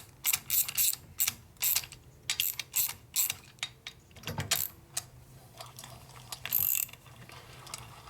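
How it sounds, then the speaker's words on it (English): Ratchet wrench running bolts down on the rocker assemblies of a 2001 Indian Scout 88ci big-bore motorcycle engine, a close, crisp series of rapid clicking bursts in a repeated rhythm, with no talk. "Take my ratchet and run them on down."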